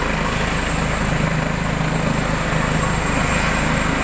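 A steady, loud mechanical drone of helicopter rotors and engine fills the whole stretch without letting up, no voices present.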